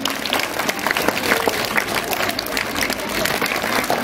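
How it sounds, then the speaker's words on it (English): Schoolchildren at a Teachers' Day celebration in a school clap together, a loud sustained patter of many small hands, with a little voice noise mixed in. "We shall give a clap for them too."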